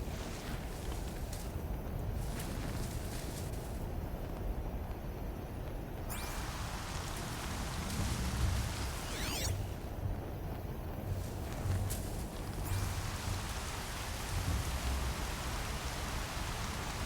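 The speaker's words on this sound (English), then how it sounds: "they are doing a really great job with this rain" Steady, dense rain in the game Horizon Zero Dawn, a continuous broadband hiss of drops on surfaces that holds even throughout, with faint brief chirps or effects rising above it.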